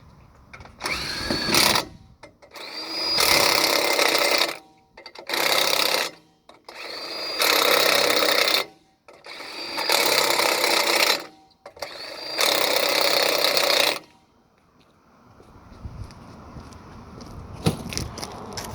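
Lug nuts on a 2019 Ford Transit 150 tire being tightened by a power tool: six loud, whirring bursts of a few seconds each, separated by short pauses, then a quieter low hum.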